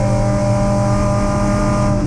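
Race car with a fuel-injected 2.5 litre straight-six engine, a loud, steady, high-revving engine note held close and constant throughout, no voices.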